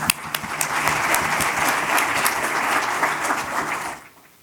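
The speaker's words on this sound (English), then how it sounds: "please give a round of applause for Andrew as he talks about when language really matters" Audience applause at a conference talk, a dense burst of steady clapping from a crowd that carries on for about four seconds and then quickly dies away.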